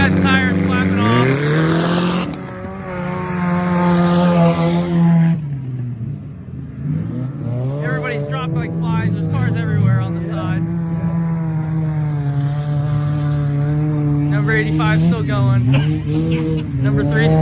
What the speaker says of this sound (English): Number 3 still going with the front end crushed off.